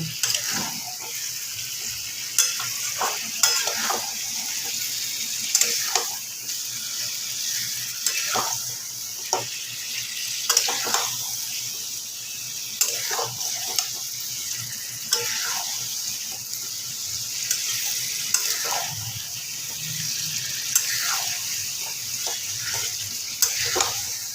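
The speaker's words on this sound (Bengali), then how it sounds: "তাই খুব ভালোভাবে মাংসটাকে কষিয়ে নেব" Chicken being sautéed and stirred in a pan for a thin chicken curry, giving a steady sizzle with repeated scraping and stirring strokes throughout, close and moderately loud, with no talking.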